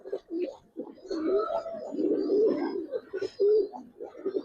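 Giribaz pigeons at a loft cooing steadily, with low rolling coos repeating in a continuous overlapping stream close by.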